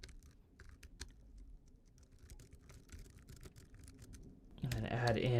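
Light, quick clicks of fingers typing on a computer keyboard to enter menu text into a restaurant website builder, faint and close, followed by a voice near the end.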